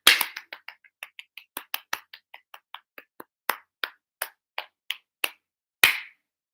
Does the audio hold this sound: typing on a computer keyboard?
no